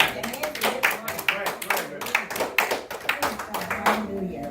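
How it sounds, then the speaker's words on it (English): A church congregation claps hands in a fast, uneven run of sharp claps, fairly close, with voices speaking and calling out among them. "clap hands and give honor"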